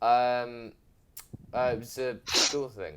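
A person sneezes once, a short sharp burst, in the middle of a casual conversation among friends, with talking before and after it.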